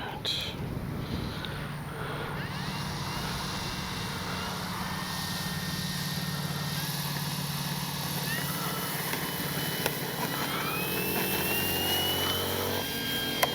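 An RC F4U Corsair warbird model plane takes off, its engine droning steadily and loudly throughout with a rising whine, over light background noise.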